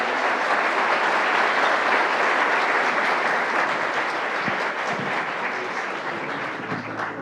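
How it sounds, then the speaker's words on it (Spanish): A forum audience gives a round of applause for the panelists at a capital markets event, a loud, sustained wash of clapping from many hands that tapers slightly toward the end. "les pido una ronda de aplausos para nuestros panelistas"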